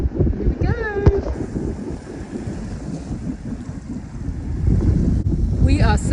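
A sailboat heading out across Moreton Bay toward Moreton Island, with steady wind buffeting the microphone and water washing against the hull; brief voices are heard at the start and end.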